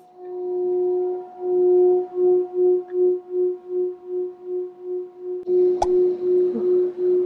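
A singing bowl rings indoors in a home sound-therapy session with cats nearby, a steady sustained tone with a slow wavering pulse, then a fresh strike late in the clip renews the ringing.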